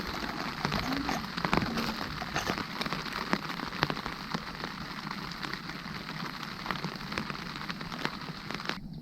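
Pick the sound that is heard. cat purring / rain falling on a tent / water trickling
rain falling on a tent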